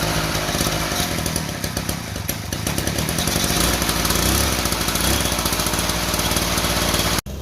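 A 49cc mini chopper's small engine running loud and close, a steady buzzing drone that rises and falls slightly before cutting off abruptly near the end.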